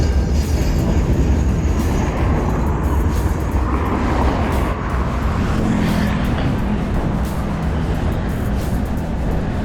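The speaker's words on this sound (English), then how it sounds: "Oh, it's the pre-metro." A Buenos Aires pre-metro light rail train passes close by, a loud, steady low rumble of wheels on track that fills the whole stretch with broadband noise.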